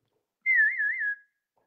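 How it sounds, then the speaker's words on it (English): A man lets out a single wavering whistle, a clear high tone that starts abruptly, warbles up and down for under a second, then trails off into silence. "That's known as the whopper whistle."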